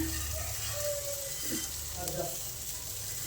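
Vermicelli tossed into a pan of cooked spices, giving a continuous crackling sizzle of frying with a few faint stirring scrapes, loud and close, with no voices.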